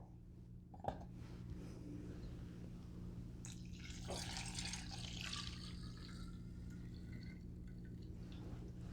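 Wheated bourbon is filtered and poured back into its bottle as a faint, trickling liquid stream with soft gurgles. A small knock sounds near the start, and the pouring rises in the middle.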